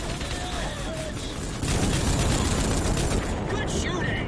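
Gunfire in the Rogue Trooper video game, a dense stretch of rapid shots and bursts that grows louder and harsher partway through, with a few brief synthetic tones over the top.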